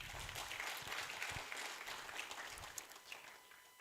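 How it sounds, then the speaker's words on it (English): Applause from a conference audience, a dense patter of many hands clapping at moderate distance, steady throughout then thinning slightly toward the end. "Let's clap for him one more time."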